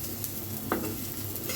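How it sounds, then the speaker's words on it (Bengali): Cumin seeds frying briefly in oil in a pan, a continuous close sizzle with a light scrape of stirring partway through. "এটাকে একটু ভেজে নিব জাস্ট, খুব বেশি ভাজা লাগবে না,"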